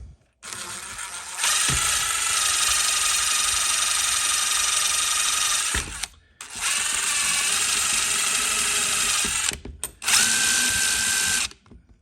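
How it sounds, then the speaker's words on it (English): A power drill with a nylon brush attachment whirs loudly in three long runs separated by brief pauses, cleaning threads, with a steady high-pitched motor tone throughout. "have these nice nylon attachments that you can put right into your drill"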